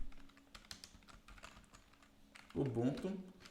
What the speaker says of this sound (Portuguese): Eu posso digitar aqui Ubuntu